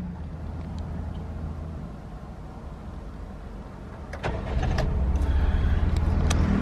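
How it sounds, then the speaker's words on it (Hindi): A Daihatsu Mira's engine cranks and catches partway through, its idle stepping up to a steady, louder hum that keeps running to the end after a quieter stretch of interior rustling. "So I am going to start the car right now."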